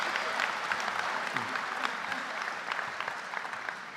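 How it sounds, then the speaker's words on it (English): A crowd at a university new student convocation applauds steadily, a dense patter of many hands clapping at once that holds for several seconds and begins to taper slightly. "Let's have another round of applause"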